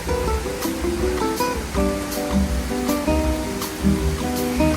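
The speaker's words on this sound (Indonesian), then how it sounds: "Jadi suara dari air terjun mini yang ada di atas." Steady rushing splash of a small artificial waterfall at a freshwater aquarium in TMII, Jakarta, continuous and fairly loud, with melodic tones playing over the water.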